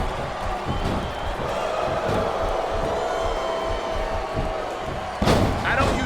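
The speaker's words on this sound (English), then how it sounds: "It sounds like this capacity crowd is something else." A capacity arena crowd roars steadily in the WWE SmackDown vs. RAW 2007 wrestling video game, with thuds and a loud slam near the end.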